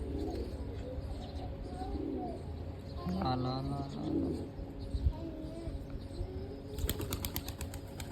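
Soft pigeon cooing mixed with faint chirps and a flutter of wings, over low background noise and some distant voices.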